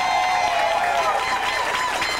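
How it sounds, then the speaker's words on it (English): Audience applause and crowd noise fill a shag dance contest hall, a steady dense wash of clapping with a sustained tone running through it, continuous and moderately loud from start to finish. "this is where you put your hands together and clap for them"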